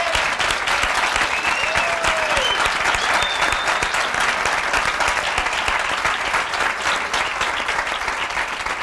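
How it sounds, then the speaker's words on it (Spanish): Sustained applause from an audience at a round-table event fills the whole stretch, dense and steady, with faint voices mixed in beneath the clapping. "Yo creo que hay que darle un fuerte aplauso a esta persona"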